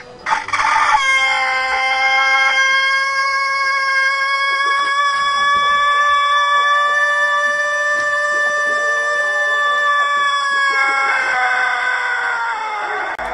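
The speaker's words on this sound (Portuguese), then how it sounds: "Vamos colocar um galo para cantar?" An unusually long, drawn-out rooster crow rings loud and steady for several seconds, with no talking.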